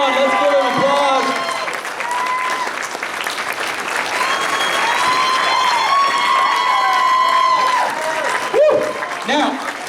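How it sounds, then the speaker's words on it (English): Audience applause with cheering and whoops for a man called up to be congratulated at a gathering, steady clapping filling the whole stretch with shouts and voices mixed in. "Come on, let's give him applause."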